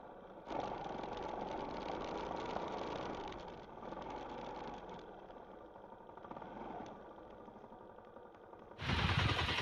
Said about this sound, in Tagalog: Ang motor natin. Putik. Grabe na lagitik oh.